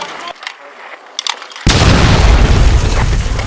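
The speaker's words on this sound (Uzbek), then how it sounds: "Portladi." A sudden loud explosion booms after a few quiet moments, followed by a sustained roaring rumble.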